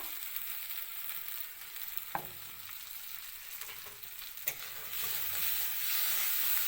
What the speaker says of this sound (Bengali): ভালো করে মশলাটা কষানো হইব